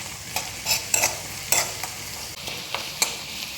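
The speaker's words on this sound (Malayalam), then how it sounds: "ഉള്ളി മുളകൊക്കെ നന്നായി വഴന്നു." Onions and green chillies sauté in a hot pan with a steady sizzle, broken by repeated scraping strokes of a spoon roughly every half second, close and fairly loud with no talking.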